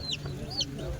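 Country chickens cluck at an outdoor farm exhibition with flower displays, giving a few short high calls over steady background murmur.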